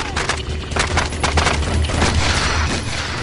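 Rapid bursts of sniper and terrorist gunfire crackle loudly and continuously in a night shootout, a dense fusillade of overlapping shots with low booms underneath.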